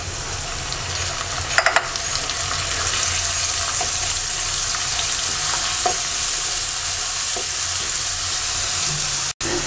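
A blended spice paste goes into onions frying in oil for a mashkalai dal with hilsa fish head, raising a continuous close sizzle with a few brief clinks and stirring scrapes and no talk.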